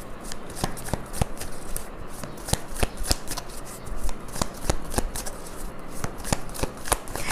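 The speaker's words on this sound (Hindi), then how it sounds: "4 कार्ड्स निकालते हैं फॉर द लव लाइफ।" Tarot cards are shuffled in a string of sharp riffling snaps and soft rustles, close and clear, with no talk over them.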